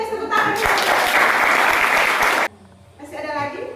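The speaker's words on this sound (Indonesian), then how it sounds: "Oke, kita kasih tepuk tangan." A small group claps together in a short, loud burst that stops abruptly, with voices talking before and after.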